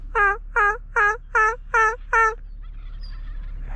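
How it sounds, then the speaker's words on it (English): Wild turkeys gobble in a fast series of six loud, rattling calls at a fishing and turkey scouting spot outdoors, followed by quieter background noise and a low steady hum. "That's what I want to hear, gobbling."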